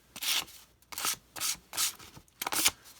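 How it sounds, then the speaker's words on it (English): Fine sandpaper rubs the flame sensor of a Trane XR80 furnace in four distinct strokes, each a close, bright scratchy rasp separated by short pauses, with no talk. "What I like to use is some fine sandpaper like this"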